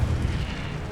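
Fire spell cast in Hogwarts Legacy, a single heavy whooshing burst with a deep rumbling low end, loud and close, with no talk over it.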